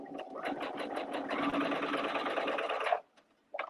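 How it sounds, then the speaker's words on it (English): A sewing machine stitches quilt fabric with a quarter-inch seam, running steadily and close for about three seconds, then stopping abruptly, followed by a brief faint mechanical shuffle. "And then I'm just going to start sewing."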